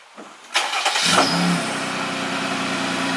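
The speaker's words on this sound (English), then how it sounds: "let's go ahead and get a cold start up of my new Magnaflow exhaust" A Jeep Wrangler JL with a Magnaflow exhaust cranks and fires up from cold after a brief quiet moment, revs once, then settles into a steady, throaty idle with a low exhaust hum.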